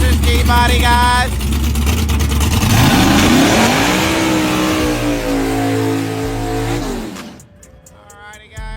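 A nitrous-equipped G-body drag racing car revs loudly nearby, its engine pitch climbing and holding in long pulls before cutting off near the end, with crowd or speech noise faint in the background.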